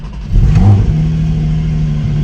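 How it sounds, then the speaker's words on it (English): A Porsche GT4 on its stock exhaust cold-starts up close: a loud, brief rev flare that settles into a steady, throaty, elevated idle with no talking. "cold start with the new stock exhaust"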